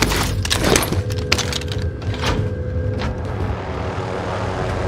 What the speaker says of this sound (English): I just got smushed by a helicopter